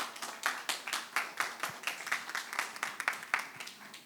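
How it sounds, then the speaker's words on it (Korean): An audience at a Slow Food taste-education workshop claps together, a brisk, even run of hand claps close by and moderately loud, with no talk over it. "큰 박수 부탁드리겠습니다."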